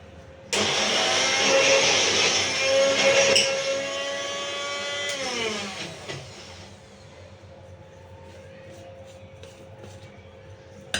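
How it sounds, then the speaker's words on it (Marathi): A kitchen mixer grinder crushing green peas roars up abruptly and runs loud and steady with a whining motor tone for about five seconds, then winds down as the motor slows, leaving a quiet room. "आता आपण मिक्सर लावून घेऊया"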